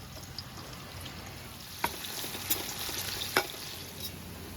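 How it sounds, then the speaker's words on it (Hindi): Onions fry in hot oil for mutton pulao being cooked on a beach, giving a steady, close sizzle throughout. A few sharp clinks of a stirring utensil against the pot punctuate it. "प्याज को डार्क करते हैं जी।"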